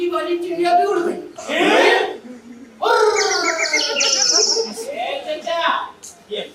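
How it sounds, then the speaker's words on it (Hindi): During a stage play, short bursts of bird chirps rise mid-scene as a bird takes flight, mixed in with nearby actors talking before and after. "तीसरी वाली चिड़िया भी उड़ गई।"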